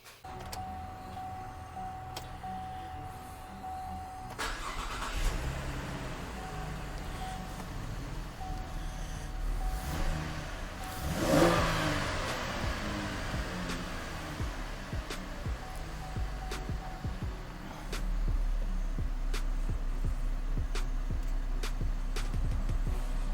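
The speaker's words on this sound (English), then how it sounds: "So I'll go get the key and we'll start it up." A car with a freshly installed Jacfab ported intake manifold, 80mm throttle body and nitrous plate cranks and fires at about four seconds, then settles into a steady idle with a brief rev near eleven seconds and a louder stretch toward the end.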